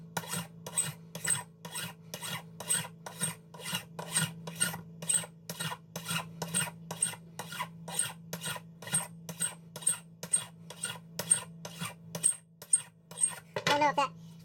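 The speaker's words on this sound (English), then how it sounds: "we'll say 30 swipes of the file." Close, repeated rasping strokes of a metal file cleaning the emitter threads of a custom lightsaber, about thirty steady swipes over a low background hum, ending in a brief clatter.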